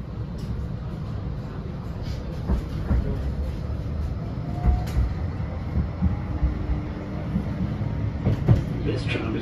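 A Blackpool tram bound for Fleetwood Ferry rolls along with a steady low rumble and occasional wheel knocks and rattles, heard from inside the car.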